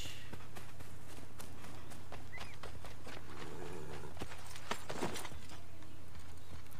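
Horse hooves in the video game Assassin's Creed 3: a steady clip-clop of hoofbeats at walking pace, fairly quiet over a low constant background hum.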